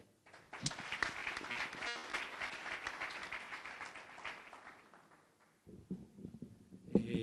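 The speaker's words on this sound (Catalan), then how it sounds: "Un aplaudiment." Audience applause at a public talk in Terres de l'Ebre, Catalonia, welcoming the mayor to speak: steady massed clapping from the room that thins out toward the end, with a few last claps.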